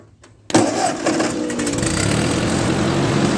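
A Ford 8N tractor's engine suddenly roars to life after a brief quiet, then runs loud and steady with a rough, buzzing drone.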